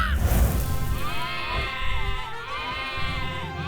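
Sheep in an animated cartoon give a few wavering, nasal bleats in succession, fairly close and clear, over a soft background of music.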